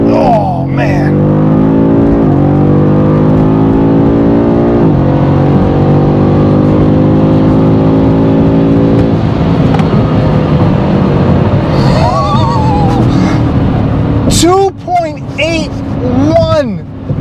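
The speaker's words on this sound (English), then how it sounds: "Manual, most aggressive setting, 4-wheel drive, DSC off, launch control active. Here we go." A 2023 BMW M5 CS launches hard in four-wheel drive, its engine roaring loud and close as it climbs through the gears with brief dips at each shift, before the revs ease and a person speaks over it near the end.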